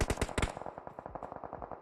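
Automatic gunfire sprays in rapid bursts in the PUBG Mobile video game, loud at first and then continuing as a quicker, quieter stream of shots.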